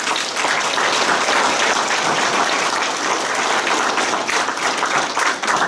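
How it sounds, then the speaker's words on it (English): Sustained applause from an audience at a Michigan Right to Life pro-life meeting: a dense, steady wash of many hands clapping, loud and continuous throughout with no speech on top. "Give yourself a round of applause."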